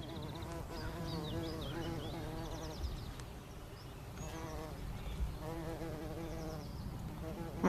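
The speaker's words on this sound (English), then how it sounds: "Listen to the bees, yeah, it's quite a buzz." Bees buzz steadily among laburnums in a garden glade, a dense continuous insect hum with birdsong chirping faintly over it throughout.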